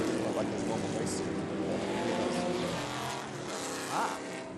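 A 1962 Cooper Monaco race car powers uphill during vintage race qualifying, its engine a steady, dense roar throughout at moderate distance, with no break or pause.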